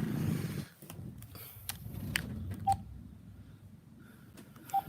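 Two brief electronic tones sound over low room noise while a phone call is being placed.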